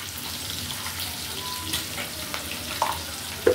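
Onions and green chilies frying in oil with spices give a soft, continuous sizzle close by, with a couple of brief utensil clinks near the end and no talk over it.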